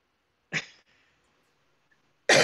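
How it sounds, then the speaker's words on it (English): One person coughs sharply and close, followed by quiet. A second harsh cough bursts in at the very end. "Good, because I'm coughing"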